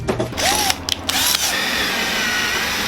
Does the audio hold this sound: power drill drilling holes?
yes